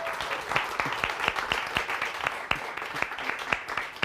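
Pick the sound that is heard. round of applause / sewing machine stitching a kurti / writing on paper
round of applause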